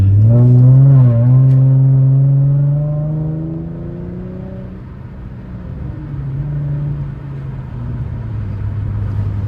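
A 2016 Hyundai Genesis Coupe 3.8 accelerating on a highway: a loud, rising engine tone climbs steadily for several seconds, then gives way to a lower, steadier cruising drone with road rumble.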